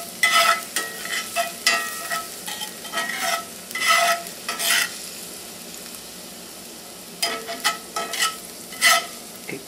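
Garlic sizzles gently in oil over low heat, with intermittent bursts of stirring and scraping in the pan between quieter stretches of soft frying hiss; no voices.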